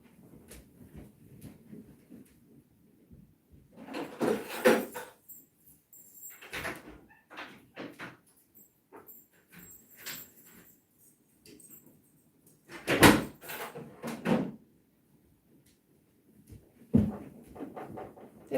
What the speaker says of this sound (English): but I have just opened the front door